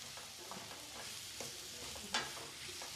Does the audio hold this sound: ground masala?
yes